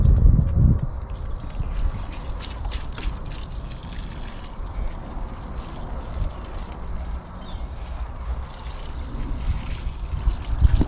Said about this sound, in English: Next up, pour the fly control over the top.